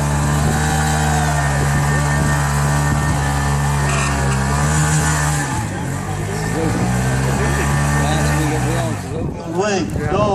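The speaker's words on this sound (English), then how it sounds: "This will be the first guy we've had that can do a burnout with the radio playing." A Honda Gold Wing motorcycle is held at high revs during a burnout, producing a loud, sustained engine drone that dips and climbs again, with people talking and cheering near the end.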